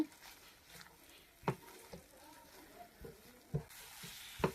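Sandesh filling fried in ghee on a low flame, stirred in the pan: a soft sizzle broken by several sharp scraping and knocking strokes of a spoon, close and fairly quiet.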